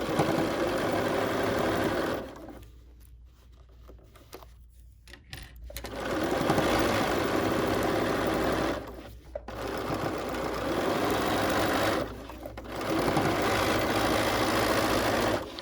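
A sewing machine runs in long steady bursts while straight-line stitching quilts a fat quarter project, its motor whirring loud and close, stopping briefly three times between runs.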